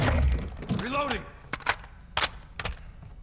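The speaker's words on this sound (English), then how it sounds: "Reloading." A weapon reload in Call of Duty Modern Warfare II, the CMMG Banshee rifle: a brief voice-like sound, then three or four crisp metallic clacks in quick, uneven succession, close and clear.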